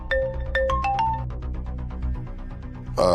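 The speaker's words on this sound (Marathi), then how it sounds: "यशोधरा, आता कशाला फोन केला असेल?" A phone rings in a Marathi TV serial scene, giving a quick burst of bright electronic tones followed by a repeating ringtone pattern. It plays alone and fairly close, and a voice cuts in at the end.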